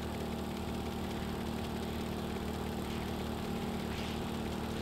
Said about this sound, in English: We just get places so much quicker with this chopper.